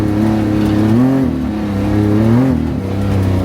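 A Can-Am HD11 side-by-side engine with an aftermarket exhaust revs up and down twice, deep and throaty, loud and close, with no voices.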